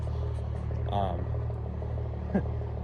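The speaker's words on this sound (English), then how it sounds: "as you can hear, we got the Chevy back there. She's idling up." A cold Chevy truck engine idles with a low, steady rumble, running rough and uneven, close by.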